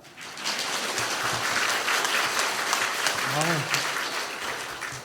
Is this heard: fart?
no